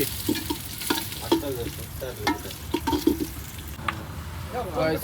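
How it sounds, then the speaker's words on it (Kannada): Onions sizzle loudly in a pan as they are stirred repeatedly while cooking for a Sunday party with friends, with scraping stirs over constant frying and voices talking faintly in the background. "ಈರುಳ್ಳಿ ಫ್ರೈ ಆಗಿದ ತಕ್ಷಣ ಮಟನ್ ಹಾಕ್ಬೇಕು"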